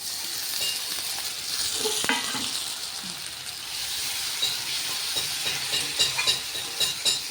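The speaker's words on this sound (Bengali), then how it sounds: "পেঁয়াজটা ভাজা হয়ে গেছে এবার মশলাটা দিয়ে দেবো" Ground spice paste is added to fried onions and garlic in a hot pan, giving a close, continuous sizzle and hiss with occasional stirring and scraping and no talking.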